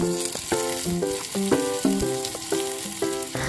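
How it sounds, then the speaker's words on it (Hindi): Onions, urad dal and green chilies fry in mustard oil with a steady hiss, partly under prominent melodic background music. "लाल होने तक अच्छे से फ्राई करें।"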